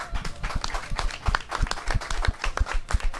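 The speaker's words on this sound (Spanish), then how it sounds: "Los vamos a aplaudir un poco, ¿no?" A group of people applauding a team at a celebration after a big match day, with dense, steady clapping throughout.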